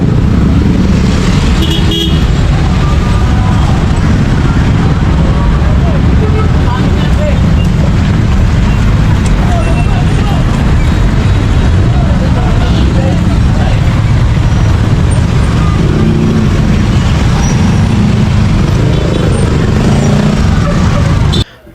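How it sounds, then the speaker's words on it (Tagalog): Heavy, slow-moving road traffic at the Bicutan–C6 interchange in Manila, a continuous loud roar of engines with occasional horn toots throughout, close and busy, with voices mixed into the din. "Talagang magkokos ng traffic nito gawa sa bagal ng usad ng trapiko."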